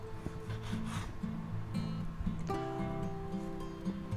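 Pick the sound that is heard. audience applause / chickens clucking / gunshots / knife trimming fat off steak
knife trimming fat off steak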